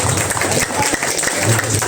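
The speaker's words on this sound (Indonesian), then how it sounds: "Tepuk tangan." Audience applause at a community deliberation meeting in Indonesia, a short burst of dense clapping that fills the room at steady loudness, with a low murmur beneath and no clear speech.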